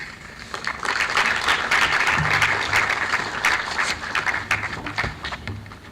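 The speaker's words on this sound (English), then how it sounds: "another resounding round of applause for him" A crowd breaks into steady, loud applause, many hands clapping together in a dense wash that carries on without letting up.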